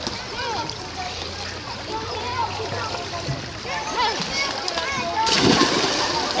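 Water splashes and sloshes steadily as a person swims, with a heavier burst of splashing near the end and faint voices in the background.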